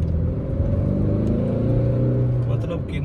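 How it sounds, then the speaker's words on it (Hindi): A 2023 Tata Nexon facelift diesel automatic revs in sports mode, a loud, close engine drone that holds and rises steadily with a rumbling low end. "मैं जस्ट आपको ये सीन दिखाऊंगा कि गाड़ी रेव कैसे करती है, बिहेव कैसे करती है स्पोर्ट्स मोड के ऊपर"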